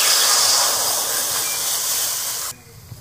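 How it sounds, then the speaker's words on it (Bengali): Cold water poured into a hot wok in a village kitchen gives a loud, sustained steamy hiss that fades and then cuts off abruptly. "গরম কড়াইতে ঠান্ডা জল"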